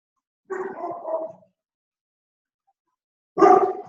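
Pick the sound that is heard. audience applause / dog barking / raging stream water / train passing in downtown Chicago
dog barking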